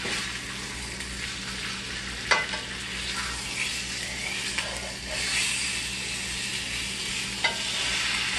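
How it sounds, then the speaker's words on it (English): A rump roast sears in a hot pan with a loud, steady sizzle and hiss while a couple of spoons turn it, adding occasional clinks and bumps against the pan; a voice briefly speaks. "I'm just using a couple of spoons and rotating it around on the pan."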